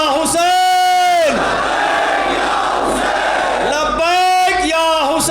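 A large crowd at a religious gathering for the martyrdom of Ayatollah Khamenei in Fatehgarh shouts a slogan in unison, with a leader's amplified cry, a loud massed reply, then another amplified call, loud and reverberant.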